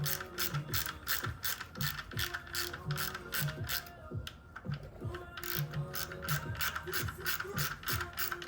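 A ratchet tightens the oil filter housing bolts on a Panigale V4R motorcycle, rapid clicking pawl bursts repeating in quick back-and-forth strokes up close, with a brief pause midway.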